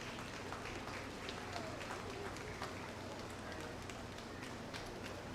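A crowd at a county fair junior breeding and feeder calf show claps steadily for champion and reserve winners, a dense, continuous patter of many hands at moderate distance.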